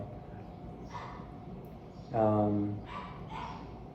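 A pet dog barks once indoors, fairly close and loud, with fainter whimpery yips before and after it. The sound runs under a low background hum.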